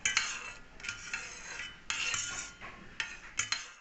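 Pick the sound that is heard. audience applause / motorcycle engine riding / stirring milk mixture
stirring milk mixture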